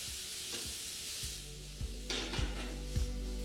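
Onions sizzling and frying in a pan for a chicken snack, a steady broadband hiss with a few soft clinks and stirring scrapes of a utensil against the pan, close and continuous with no talk.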